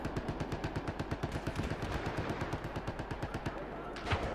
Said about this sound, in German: Und da schieße ich genau zweimal drauf. Auf den blöden Türrahmen.